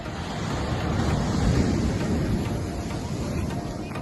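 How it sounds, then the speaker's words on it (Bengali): Sea waves break and wash onto the shore at sunset in a steady, loud roar, with wind buffeting the microphone throughout and no talking. "ওরে ঢেউ উঠছে, দেখ ঢেউ দেখ"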